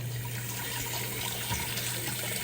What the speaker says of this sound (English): Gotta put some water in the bowl.